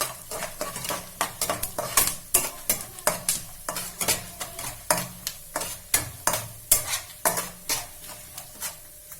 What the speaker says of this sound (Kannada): 1 2 ಟೇಬಲ್ ಸ್ಪೂನ್ ಅಷ್ಟು ಉದ್ದಿನ ಬೇಳೆನೂ ಸಹಿತ ಹಾಕ್ತಾ ಇದ್ದೀನಿ. ಎಲ್ಲ ಒಂದು ಸ್ವಲ್ಪ ಫ್ರೈ ಮಾಡ್ಕೊತೀನಿ.